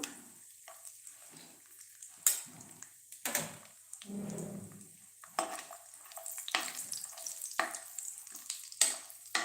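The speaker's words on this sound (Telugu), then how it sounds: "ఆయిల్ వేడెక్కింది మనం ఇవన్నీ వేసేసుకుందాము వీటితో పాటుగా జీడిపప్పు పలుకులు కూడా వేసేసాను" Tomato rice ingredients and cashew pieces fry in hot oil in a kadai, with a steady crackling sizzle broken by repeated sharp stirring and scraping clatters close up, no voices.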